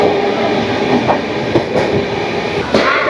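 Dhauli Express running through Mecheda station on the Puri to Howrah route makes a loud, continuous rumble heard from on board, with faint rhythmic wheel clatter.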